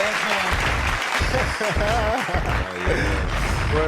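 An applause sound effect plays during a casual podcast chat among friends, giving a steady wash of clapping for about four seconds with voices talking over it.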